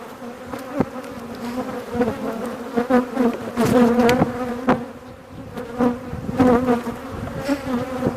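A close, dense buzzing of many honey bees at an open hive during an inspection swells and fades unevenly, with occasional sharp clicks and knocks from handling frames nearby.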